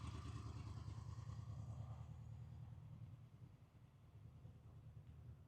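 Honda VFR800X Crossrunner motorcycle engine idling steadily close by, a low, even rumble that stays constant and slightly eases off toward the end, with no voices.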